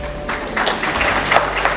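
An audience claps together in a short burst of applause, moderately loud and steady, with no talking over it.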